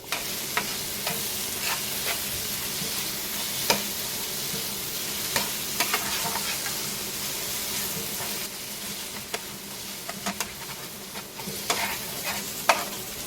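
Masala and two spoons of cheese are stirred together in a hot pan with coriander, soft sizzling under intermittent scraping and clinking of the spoon against the pan at irregular intervals.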